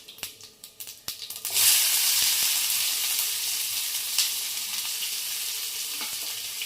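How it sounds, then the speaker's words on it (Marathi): Finely chopped onion hits hot oil with mustard seeds and cumin in a Maharashtrian tondli bhaji, bursting into a loud, steady sizzle after a few crackling pops, close and alone with no talking. "हा कांदा आपल्याला तांबूस रंगावर भाजून घ्यायचा।"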